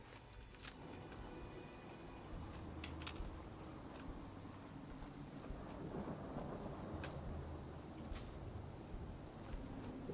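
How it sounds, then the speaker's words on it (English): In Fallout 4, a night thunderstorm pours steady rain with a constant hiss, while low rumbles of thunder roll underneath and scattered crackles and drips stand out, sustained throughout with no voices. "But it's a dark and stormy night."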